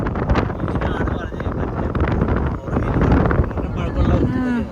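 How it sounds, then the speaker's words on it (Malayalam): Gusty wind buffets the microphone on a mountain outing at Jabal Akhdar in Oman, a constant rushing roar under family members' chatter. "കാറ്റുണ്ട്"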